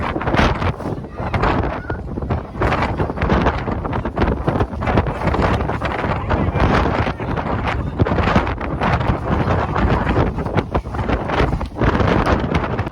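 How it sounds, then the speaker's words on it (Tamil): Strong wind buffets the open deck of the S.S. Badger car ferry crossing Lake Michigan, a loud, continuous roaring rush with gusty swells and no pauses throughout. "பட் பயங்கர காற்று இந்த இடத்துட்ட."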